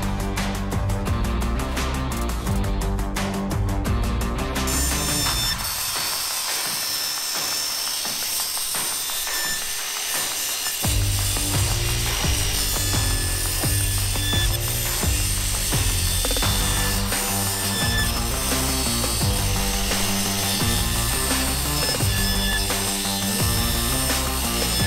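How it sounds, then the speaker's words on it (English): A circular saw fitted with a finer blade cuts material resting on sawhorses during an off-grid yurt upgrade, a loud sustained buzzing cut with a brief dip partway through before the blade bites again. "And Ryan put a blade on the circular saw that is a finer blade."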